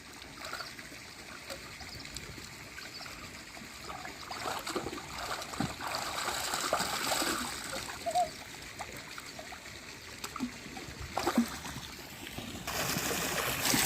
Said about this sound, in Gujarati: જીગર હવે ધોવે છે ફિલ્ટર પાણીથી.